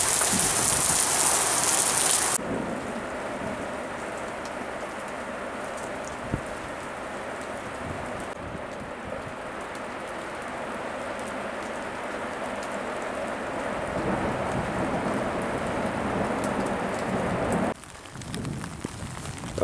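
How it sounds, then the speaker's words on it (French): Heavy rain pours during a mountain thunderstorm, heard from under a small entrance porch as a continuous loud roar and patter that shifts slightly in texture but never lets up. "toujours autant de pluie, l'orage ne se calme pas"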